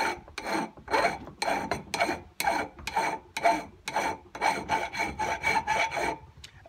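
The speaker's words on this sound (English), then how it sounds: "probably have to use two different files, and then just file the burrs off" Hand file rasping across metal burrs on a Citroen C1 driver's seat frame, worked without a vice, in a steady series of close, loud back-and-forth strokes with brief pauses between them.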